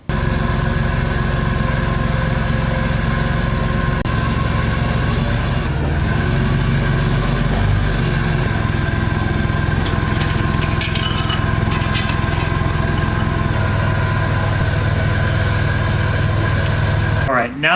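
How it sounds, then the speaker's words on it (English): A forklift lifts a CNC vacuum pump out of its box. Its engine idles with a steady, loud hum through the whole span, and faint clanks and shifting sounds are mixed in. "then we'll move the forklift in under the chains and we can lift it up just like that"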